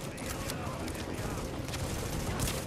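Continuous loud gunfire in The Division as a full magazine is emptied, a dense unbroken rattle of rapid shots filling the whole moment.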